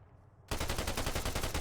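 Rapid automatic rifle fire in Arma 3 seen from third person, a near continuous burst that bursts in loudly after a brief quiet moment and hammers on steadily to the end.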